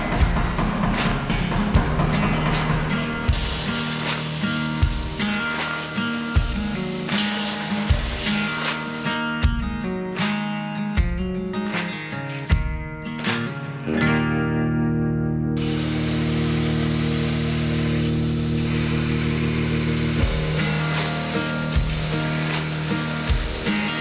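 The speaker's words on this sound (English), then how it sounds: "Only did the grinding, now polishing at 400 grit." Kitchen knife blade ground on a belt grinder at 180 grit, a loud continuous abrasive rasp with a running motor hum, repeatedly interrupted by short pauses as the blade is lifted and reapplied.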